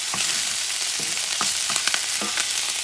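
Ham and chopped onions being stirred while frying for picadillo pasta, a loud continuous sizzle punctuated by several sharp spoon scrapes against the pan, close by, no voices.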